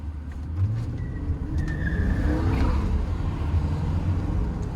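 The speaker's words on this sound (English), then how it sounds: "Had to squeal the tires a little bit." A BMW E39 V8 rear-wheel-drive German luxury sedan pulling away on the road, a deep steady engine rumble building as it accelerates, loud and close, with a brief faint squeal in the middle and no talking.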